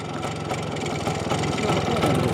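DKW RT 125 motorcycle engine idling, a steady close rapid single-cylinder putter that holds even and loud throughout with no talk.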